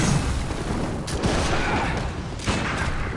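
Gunfire in the video game Bloodborne cracks out in a few sharp, loud bursts over a dense, noisy game soundscape.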